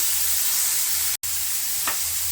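Beans sauté on high flame in a pan, a constant bright hiss and sizzle with one short break and a faint clink near the end.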